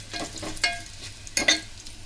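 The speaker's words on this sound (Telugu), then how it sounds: "మిరియాల, జీలకర్ర నూనెలోనే వేయించాలి" Black peppercorns and cumin seeds frying in oil for pepper rasam, giving soft crackling sizzle with a few sharper pops and stirring scrapes, close and fairly quiet, no talking.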